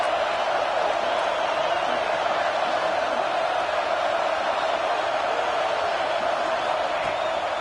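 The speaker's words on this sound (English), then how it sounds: "Listen to this crowd just shaking the girders of this place" Stadium crowd roaring at a Georgia vs Alabama college football game, a dense steady wall of cheering noise that holds loud and unbroken throughout, with no clear voices standing out.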